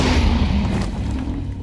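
A loud, boomy explosion from the Minecraft Ender Dragon fight in the End, a deep rumbling burst that rolls and decays over under two seconds with no talking.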